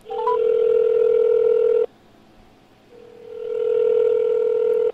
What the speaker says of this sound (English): That's my cell phone ringing right there.